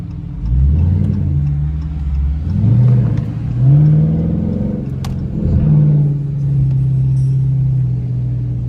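Car with a new aftermarket exhaust in sport mode, engine revving up in several rising pulls with deep burbling between them, close and loud, settling into a steady drone at the end.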